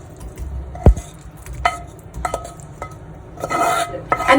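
A spoon scrapes and taps against a pan as cooked food, seasoned with salt and pepper, is scooped out into a bowl, giving several sharp metallic clinks followed by softer scraping and rustling up close.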